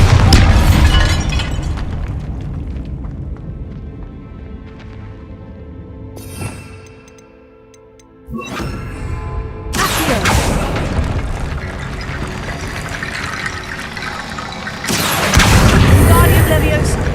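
Bombarda blasting spell in a video game: heavy booming explosions, one sharp crack midway and two big roaring blasts later on, loud and close, over a constant rumbling game background.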